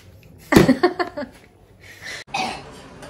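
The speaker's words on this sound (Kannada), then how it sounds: "ನನಗೆ ಕೆಮ್ಮು ಬರ್ತಾ ಉಂಟು" A person coughs several times in a quick close burst, followed by softer breathy throat sounds.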